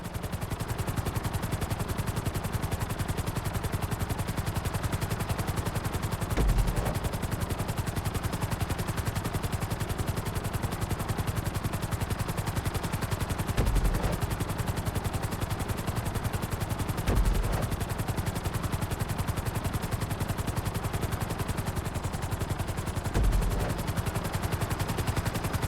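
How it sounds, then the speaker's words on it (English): Helicopter rotor and engine from Grand Theft Auto V during a flight school landing on a helipad, a loud, steady, dense thrumming that runs throughout with occasional heavier thumps and no speech. "Bring the helicopter down gently onto the helipad."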